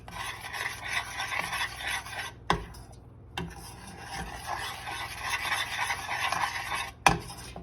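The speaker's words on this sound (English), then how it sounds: "Stir that in." A thick carob fudge mixture with sunflower butter and coconut oil is stirred in a bowl, giving continuous close rasping and rubbing strokes, with brief pauses and a couple of sharp knocks.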